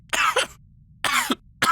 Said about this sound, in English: There was a pained fit of coughing on the other end of the recording